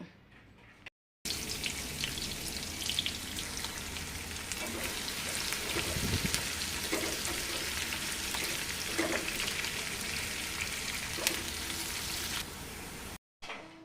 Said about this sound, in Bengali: তেলটা হালকা একটু গরম হয়ে গেলে আমি এর মধ্যে কুচিয়ে রাখা পেঁয়াজগুলো দিয়ে দেবো